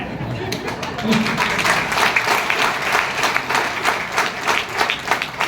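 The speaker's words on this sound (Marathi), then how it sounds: "बघा त्यांनी गेस्ट आणलेत ना ते टाळ्या वाजवतात" Guests in a hall clap together in continuous, dense applause lasting several seconds, with a speaker's voice running over the clapping.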